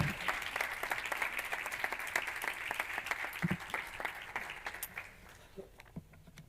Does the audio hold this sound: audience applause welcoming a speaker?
yes